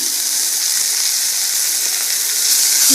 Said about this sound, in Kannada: ಚೆನ್ನಾಗಿ ಇವಾಗ ಫ್ರೈ ಮಾಡ್ಕೋಬೇಕು ಚೆನ್ನಾಗಿ ಫ್ರೈ ಮಾಡಿಕೊಂಡು